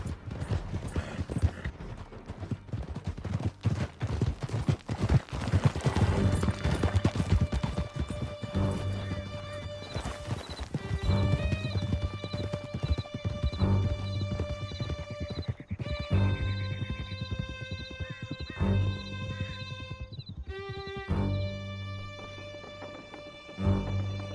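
Horses gallop in Red Dead Redemption 2, a steady clip-clop of hooves through a canyon escape, joined by several whinnies and neighs. There are occasional crashes and knocks, and the hoofbeats stay close and continuous without talk.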